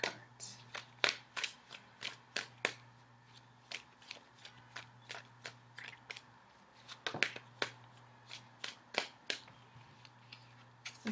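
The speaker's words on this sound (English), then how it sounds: "So give me a few more seconds and then I will cut the cards." A tarot deck is shuffled by hand in a steady run of crisp, close riffles and taps, each card slap sharp and distinct, with a faint hum underneath.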